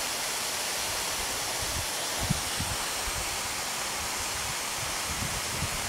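Water hisses steadily from a fan-type sprayer on a garden drip irrigation line over raised garden boxes, a close, even spray wash that runs without a break from start to end.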